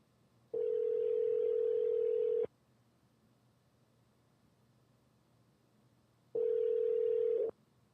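Telephone ringback tone on an outgoing call sounds as two steady, loud, clean tone bursts of about two and one seconds, separated by silence.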